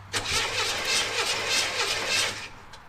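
Engine of a 1991 Trans Am with TPI cranking over during a compression test with the gas pedal floored, a steady rhythmic starter churn for about two and a half seconds, close and loud, then stopping.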